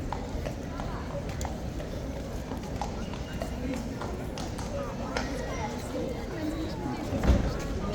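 Horse hooves clip-clopping at an outdoor horse event with police nearby, steady light hoof steps under crowd noise and a talking voice.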